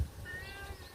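A cat gives one drawn-out meow, close and clear, over a low room rumble.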